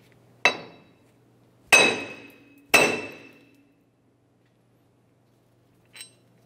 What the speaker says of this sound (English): We'll use a hammer. I'm going to give it a couple loving bonks and try to drive it out.